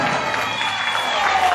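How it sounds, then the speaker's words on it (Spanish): An audience at a singing competition applauds after a contestant is introduced, a brief burst of dense clapping with some crowd noise, steady and fairly loud across the whole moment. "Los aplausos para ella."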